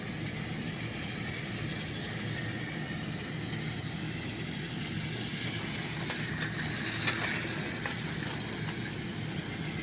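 Plarail toy trains, a D51 and a D3, running on plastic track: a steady whirring motor drone with faint rattling, and a few small clicks and taps near the end.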